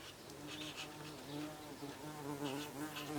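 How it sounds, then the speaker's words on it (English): A big bee buzzes steadily as it flies in and out near a window sill in warm weather, its drone rising and falling as it moves close by. "bee is just flown in and out"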